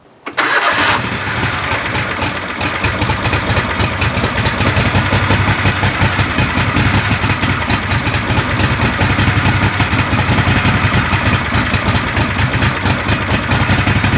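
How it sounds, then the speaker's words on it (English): A John Deere Gator 620i utility vehicle engine starts and runs close by, its idle steadily surging up and down in a loud, continuous rhythmic chug. "Notice how it's idling up and down."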